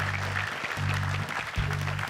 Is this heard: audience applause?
yes